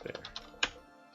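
Quick typing on a computer keyboard, a rapid run of soft key clicks followed by one sharper keystroke, close and quiet.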